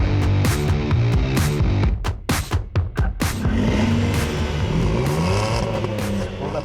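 A Renault Kwid engine revs hard at the start line of a drag race, climbing in a few sharp, loud bursts before settling into a steady, strained drone that holds until the end.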